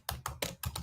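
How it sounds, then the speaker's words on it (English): A 2017 MacBook Pro butterfly keyboard gives four quick, close keystrokes in a brief burst, each a sharp clicky tap. "my rickety keyboard from my 2017 MacBook Pro with those awful butterfly keyboard"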